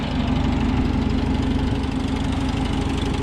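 A 1949 Farmall C tractor engine runs steadily just after a cold start, a loud, close, even low chugging idle with a regular knocking beat and no voices.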